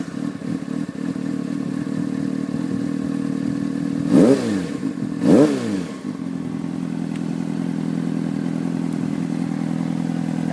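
A 2003 Honda CBR600RR with a Yoshimura full exhaust idles steadily, then gets two sharp throttle blips that rise and fall quickly before settling back into a deep, even idle, close and loud.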